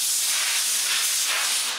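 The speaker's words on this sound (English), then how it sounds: "First of all, I blow away all the dust." A steady, strong hiss of blown air clearing dust from woodwork runs for about two seconds with no pauses and nothing else audible.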